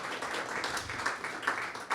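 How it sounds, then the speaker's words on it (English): A short patch of applause from a panel audience at a civic hacking tech event, soft scattered clapping heard from a distance. "Can we get a round of applause for the great work they're doing there in Kansas City?"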